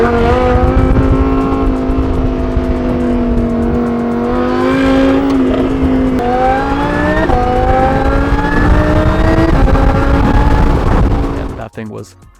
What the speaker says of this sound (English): the brother of Rev9 actually just purchased a supercharged Huracan, and we took it around the racetrack